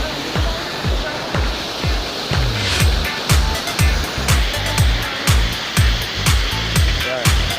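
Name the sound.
waterfall in a barangay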